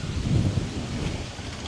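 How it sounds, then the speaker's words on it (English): Gusty wind buffeting the microphone outdoors in the Philippines, a loud low rumble that surges early and then eases into a steadier blustery roar. "sorry, it's windy now"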